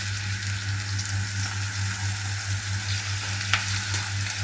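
Chicken pieces fry in hot oil in a pan for eggplant maqluba, giving a steady close sizzle with a low hum beneath and one brief clink near the end.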